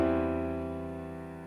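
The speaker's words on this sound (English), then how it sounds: "you resolve it to a 1 chord in first inversion." A sustained piano-like chord resolving to a tonic chord in first inversion, forming an imperfect authentic cadence, ringing out and slowly decaying with no talking.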